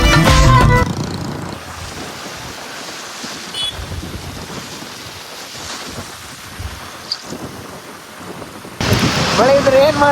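Rain beats down during a road trip with friends, a steady wet hiss. Heavy bursts of thunder or wind roar hit loudly at the start and again near the end.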